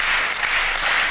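Crowd applause at a 2003 Bitburger Open men's doubles quarterfinal badminton match, a dense, steady wash of clapping filling the hall for about a second with no break.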